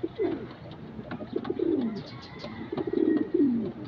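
Pigeons coo in a large cage: several soft, throaty, descending coos in quick, uneven succession, close by and fairly quiet, with faint rustling in between.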